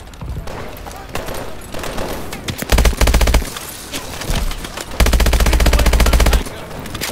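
IMR rifle firing in the video game Call of Duty: Advanced Warfare: loud, rapid automatic bursts, one around the third second and a longer sustained burst later, between quieter in-game battle noise.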